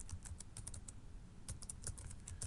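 Rapid clicking of keys on a computer keyboard as a password is typed, a quick irregular run of light taps heard up close and fairly quiet.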